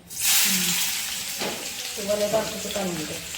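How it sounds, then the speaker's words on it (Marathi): Chopped onion hitting hot oil in a home Marathi kitchen, a loud sizzle bursting at first then settling into steady frying hiss, with a voice speaking over it. "तेलामध्ये कांदा टाकलाय"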